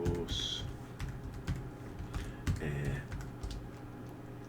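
Keys clatter on a computer keyboard in a steady run of close, sharp taps with irregular rhythm, fairly quiet and mostly alone with a soft background hum.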